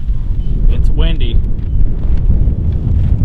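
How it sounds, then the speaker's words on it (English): Wind blows outdoors in Nebraska, a steady low rumble buffeting the microphone throughout, with a brief higher whistle and someone talking close by. "it's windy"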